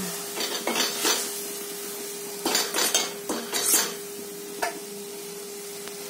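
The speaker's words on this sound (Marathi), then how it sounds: "ही सुकट ना मी एकत्र करतो आता याच्यामध्ये मसाल्याला आणि मसाल्यामध्ये एकजीव करून घ्यायचं" Dried fish being stirred into masala in a metal pan, with scraping and clattering utensil strokes in short bursts over a steady low hum, fairly close, with no talking.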